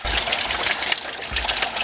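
Water gushes steadily through a pond filter system's control valve and float, a continuous loud rushing flow close by with slight surges, no voices.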